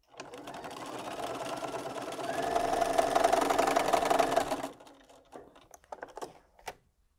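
A sewing machine stitches a quarter-inch seam on quilting fabric for half square triangles, its fast whirring run building steadily for about five seconds before stopping, followed by a few light clicks and handling sounds.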